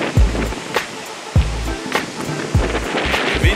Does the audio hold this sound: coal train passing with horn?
no